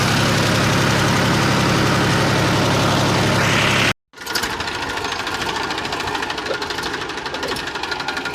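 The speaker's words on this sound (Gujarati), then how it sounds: "જો બે ટ્રેક્ટર આયા પાર્કિંગ કરી નાખ્યા" A village tractor engine idles loudly with a fast, even mechanical chugging, then cuts out abruptly before a quieter running engine continues steadily.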